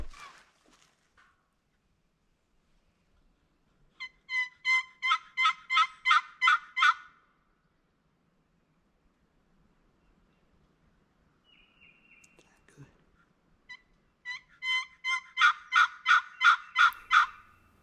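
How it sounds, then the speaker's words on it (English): A wild turkey gobbles in the Illinois spring woods, two rapid rattling bursts of gobbling several seconds apart, fairly close and clear against near silence. "Did find this cool white turkey."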